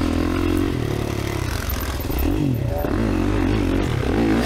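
A 2024 Kawasaki motocross bike works hard through practice laps on a dirt track, the engine revving and bogging with rising and falling pitch sweeps, close and loud throughout, with some clatter and no talk.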